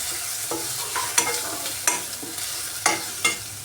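A spoon stirs a pasta masala mixture in a pan, giving soft scraping strokes at an uneven rhythm over a steady low sizzle, close up with no voices.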